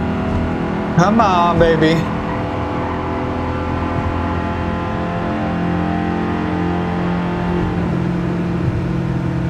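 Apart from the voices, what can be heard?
car engine revving in the video game Gran Turismo 7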